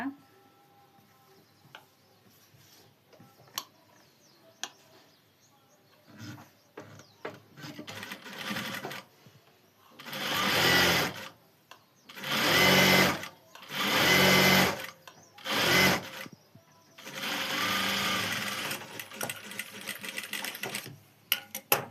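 A sewing machine stitches a blouse hem in several loud, close bursts of rapid mechanical whirring, separated by short pauses and quieter handling noises.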